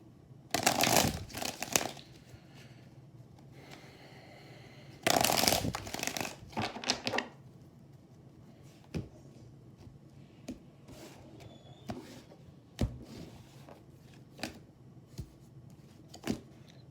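Tarot cards being shuffled in two loud riffling bursts, then scattered soft taps and flicks of cards in a quiet room.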